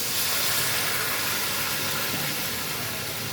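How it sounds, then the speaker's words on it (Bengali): Water poured into a hot pan of jackfruit curry, sending up a loud, steady, broadband sizzling hiss that fills the clip without letting up. "এখন ঝোলের জন্য জল দিয়ে দিই।"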